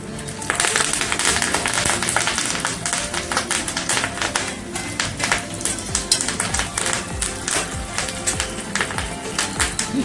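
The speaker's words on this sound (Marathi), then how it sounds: "फोडणी चांगली तडतडली आहे" Cumin seeds and curry leaves crackle in hot oil as a fasting tempering for sabudana appe, a dense, continuous popping and spitting close at hand that runs steadily with no pause.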